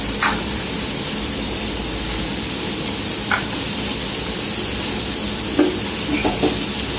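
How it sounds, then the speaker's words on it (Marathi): Cluster beans (guar) tipped into a hot pan of cooked onion and tomato give a steady, close frying sizzle and hiss, with a few soft stirring knocks scattered through. "आता याच्यामध्ये टाकते मी गवार. सगळी गवार टाकून घेते."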